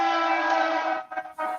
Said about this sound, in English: that train was loud